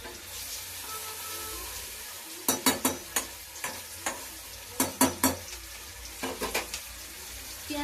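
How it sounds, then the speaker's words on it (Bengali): Onions fry in hot oil for an evening chow mein snack, a steady sizzle running underneath while a spatula scrapes and stirs in sharp clustered bursts, close and fairly loud, with no talking. "এবার পেঁয়াজ ভাজছে"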